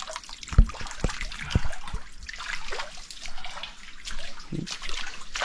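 A water container is filled from a stream beside a waterfall on an Andaman island, with a steady trickling gush over a constant outdoor water wash and a few sharp knocks near the start.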